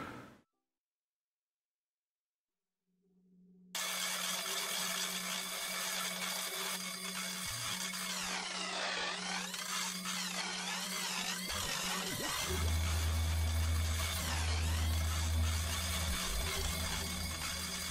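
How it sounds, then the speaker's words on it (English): A meat grinder runs in the video game Nour: Play with Your Food, giving a steady, loud, continuous mechanical grinding whir after a brief silence, with a low droning hum underneath and a throbbing buzz rising near the end. "let's go to the meat grinder"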